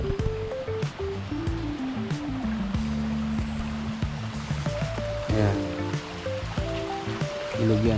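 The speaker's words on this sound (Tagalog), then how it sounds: "Ito yung ilog, oh. Malinis na ilog." A clean river flowing beneath a bridge at Hidden Valley Springs Resort in Laguna gives a continuous wash of rushing water, moderately loud and steady, while someone speaks throughout over it.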